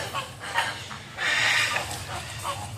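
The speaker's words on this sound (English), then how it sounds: "back over at the chatty flamingo" Flamingo honking and chattering at a zoo bird exhibit in Miami, a string of short nasal calls with one longer, louder burst in the middle, heard at moderate distance over outdoor ambience.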